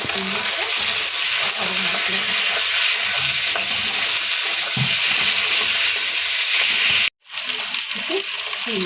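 Ginger, garlic, turmeric and salt frying in a pan, a loud, dense, steady sizzle with faint stirring scrapes that cuts out abruptly for a moment near the end and then resumes.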